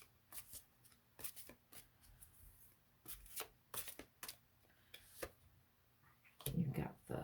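Tarot cards shuffled close up, a series of soft crisp riffling and slapping bursts in an uneven rhythm, quiet and intimate, with a louder rustle at the end.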